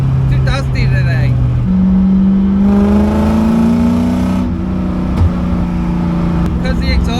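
A drift car's 1UZ V8-swapped Nissan S13 engine drones and rises in pitch as it passes close by, a loud side-exit exhaust note swelling and fading against a busy, dusty outdoor background.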